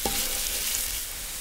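Sausage and minced garlic sizzle in hot cooking oil for a spicy Samyang ramen stir-fry, a close, steady, hissing fry that holds evenly throughout with no voices.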